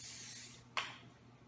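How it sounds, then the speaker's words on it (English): A can of cooking spray misting over food at a camp cookout, one short, soft hiss that rises sharply and fades, faint and alone. "a little cooking spray."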